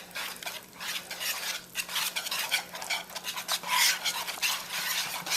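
Whole milk being mixed into sweet potato casserole ingredients in a bowl: continuous close, brisk stirring with repeated clinks and scrapes of a utensil against the dish, with no talk.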